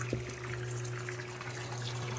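Water drains through a siphon in a flood and drain hydroponics setup, a continuous close trickling and gurgling flow over a low steady hum, with no talk.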